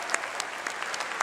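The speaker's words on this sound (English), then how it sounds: "come on, let's clap one more time." An audience claps steadily at a university new student convocation, with dense, even applause from a large crowd throughout.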